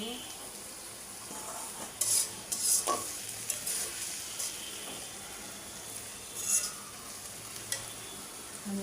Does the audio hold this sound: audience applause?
no